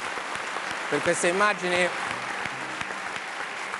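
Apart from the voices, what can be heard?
studio audience applause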